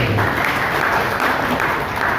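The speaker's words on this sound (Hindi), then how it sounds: "हमारे बीच में सांसद महोदय जी आए, उनका भी जोरदार तालियां बजाना चाहिए" Sustained, dense applause from a crowd at a political gathering honoring a member of parliament, a steady roar of many hands clapping throughout with no break.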